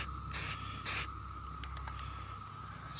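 Rattle-can spray paint hisses in two short bursts onto an AR15 pistol in 300 Blackout, close and steady, followed by a few faint clicks and continuous background hiss.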